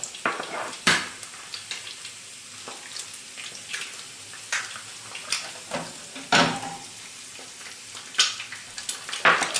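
An egg fries in a covered pan with a steady, low sizzle and scattered sharper crackles and pops, close and fairly quiet, and nobody speaking.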